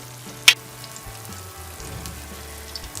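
Two eggs cooking in a covered pan over a medium flame for egg bhurji with brain masala, a faint, steady low sizzle with one sharp tick near the start, with no talking.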